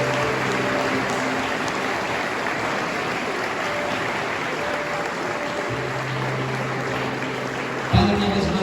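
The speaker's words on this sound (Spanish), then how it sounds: "Denle un fuerte aplauso al Señor." A church congregation gives the Lord a loud applause, a thick continuous roar of many hands clapping at an even level throughout, with a brief bump in loudness near the end.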